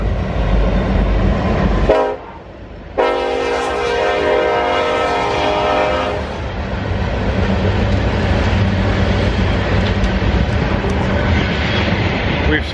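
A train passes close by near a Nebraska junk-sale route: a loud horn blast cuts in, then a sustained horn, followed by the steady roar and rumble of rail cars going past.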